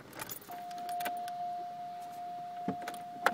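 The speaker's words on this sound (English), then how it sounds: "He rolled up the window." A car's power window rolls up with a steady electric motor whine lasting about three seconds, with keys jangling and small clicks and knocks inside the car around it.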